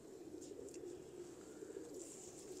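White Sandurii Palak pigeons coo softly and steadily, a low murmuring drone that carries on without pause, with faint higher chirps drifting in now and then.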